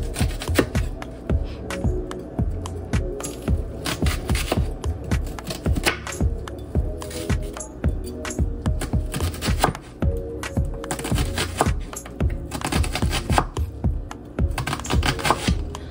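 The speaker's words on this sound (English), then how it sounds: "Actually, I'm going to slice them into cubes." A knife cuts food into cubes on a board, dense rapid chopping strokes in quick irregular bursts, close and crisp, continuing without pause.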